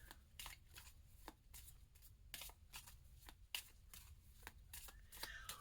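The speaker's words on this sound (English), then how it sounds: "Just tell me when to stop and I'll stop shuffling." A deck of cards is shuffled repeatedly in quick, papery riffles and flutters, close and fairly quiet, with no one talking.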